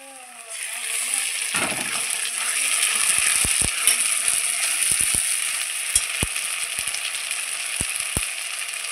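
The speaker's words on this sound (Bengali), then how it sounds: "বেটে রাখা মশলাগুলো আমি এখন এর মধ্যে ঢেলে দেবো।" Ground spice paste is poured onto fried onions in hot oil for a rohu fish curry, and a steady close sizzle builds and holds while sharp spoon clicks and taps from stirring cut through at irregular moments.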